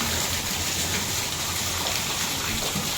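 Heavy rain pours steadily in a sudden storm, a loud continuous hiss of water with a rushing wash that suggests strong wind, unbroken across the whole stretch with no voices.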